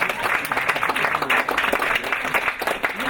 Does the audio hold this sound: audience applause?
yes